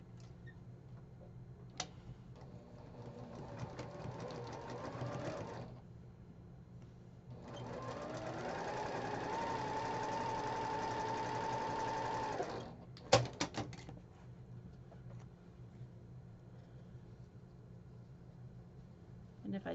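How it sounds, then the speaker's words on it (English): A sewing machine stitches quilt block pieces together in two steady, close bursts of whirring with soft ticking, then a few clicks and quiet handling, with brief talk in between. "So I'm going to sew this one together."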